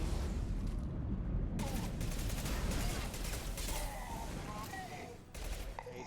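Rapid gunfire from the Shuriken gun in Mass Effect 2, a dense fusillade of shots crackling continuously at steady loudness, with a brief drop near the end before the shooting resumes.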